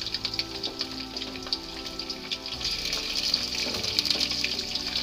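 Chicken pieces fry in a pan with cloves and cinnamon stick for biryani, giving a constant crackling sizzle like rain that swells louder in the second half, close by and without talking.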